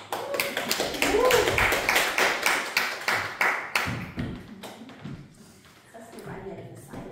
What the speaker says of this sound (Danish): Og du må kysse din brud. Og der må klappes.